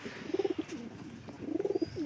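A pigeon coos nearby in two rolling, throbbing bursts separated by a short pause, soft and low against a quiet background.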